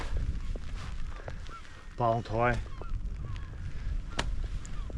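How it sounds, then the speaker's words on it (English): Seabirds honk and call in a short burst of rapid cries against steady wind and surf crashing on the coast near Carrick-a-Rede, Northern Ireland, with a few words spoken. "You just hear the birds chirping away"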